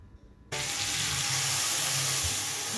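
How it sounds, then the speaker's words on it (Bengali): Water gushes suddenly into a cooking pot for a vegetarian drumstick and potato curry, a loud continuous rushing pour starting after a quiet half second. "এবার আমি দিয়ে দেবো জল।"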